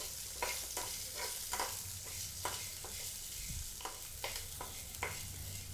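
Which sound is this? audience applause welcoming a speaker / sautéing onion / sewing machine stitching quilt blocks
sautéing onion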